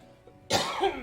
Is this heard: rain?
no